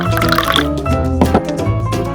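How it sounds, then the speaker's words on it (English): Water poured into a bowl holding octopus while cooking seafood, a close, loud steady splash and trickle with bubbling drips lasting a couple of seconds, heard on its own. "Pour water evenly into that bowl."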